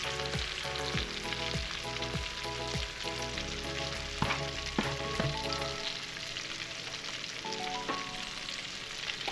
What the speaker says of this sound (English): now I'm going to go in with everything that I have. Got the onions, the peppers, the thyme, everything.